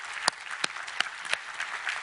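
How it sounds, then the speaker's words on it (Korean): A church congregation at a Sunday worship service claps together in a burst of warm, steady applause, with scattered sharper claps standing out. "우리 하나님께 감사와 영광의 박수를 드리겠습니다."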